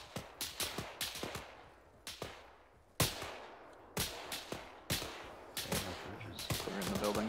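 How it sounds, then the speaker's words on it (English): Gunfire in the military video game ArmA 3: sharp, close cracks and short bursts of rifle fire at irregular intervals, each followed by a reverberant echoing tail, with denser shooting toward the end. "Oh, we're taking fire."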